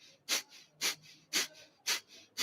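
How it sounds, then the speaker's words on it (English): Five rapid, forceful breath-of-fire exhales through the nose in a kundalini-style breathing exercise, evenly spaced about half a second apart, close and clear with quiet gaps between them. "So kind of a kundalini-inspired breath of fire."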